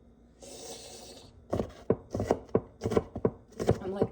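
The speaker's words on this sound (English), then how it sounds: "I'm going to be making these meals for him and cutting these onions." Knife chopping onions on a board, a run of sharp, close thunks in an irregular rhythm after a short stretch of quieter rustling.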